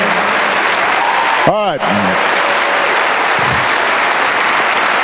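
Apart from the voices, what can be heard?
audience applause at a political rally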